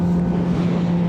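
Suzuki GSX-R 600 motorcycle idling on its stock exhaust, a steady, fairly loud low hum with wind-like noise, short and unbroken with no talking.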